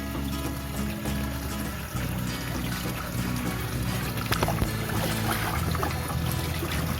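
A water pump runs steadily, with water pouring and trickling into a container of about one liter, a continuous wet splashing hum throughout with no talking.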